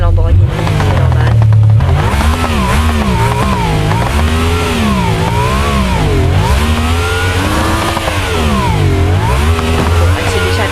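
A Lamborghini in the BeamNG Drive video game accelerates with a loud, continuous engine roar, its pitch rising and falling through repeated gear shifts and revs, with a voice heard briefly near the start.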